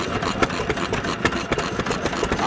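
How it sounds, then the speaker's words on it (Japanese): A red First FS-type stationary petrol-started engine, a rare make resembling a Kubota, runs steadily at close range, its loud, continuous chugging and clatter pulsing in a quick even rhythm without any voices. "ファーストという発動機です。"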